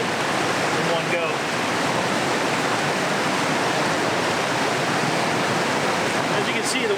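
A 1 liter water bag is filled at a tannin-stained backcountry stream, its water rushing as a loud, steady broadband gush that holds unchanged for the whole stretch, with no voices over it.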